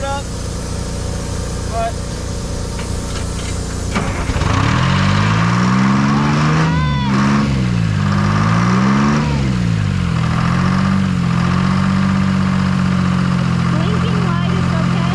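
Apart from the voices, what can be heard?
old skidder engine running and driving after 15 years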